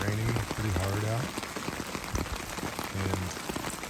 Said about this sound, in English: It is raining pretty hard out.